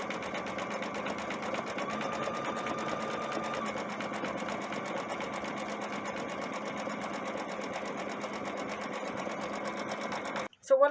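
A sewing machine runs a steady satin stitch around an appliqué, humming continuously and evenly at close range for about ten seconds before stopping with a brief clunk.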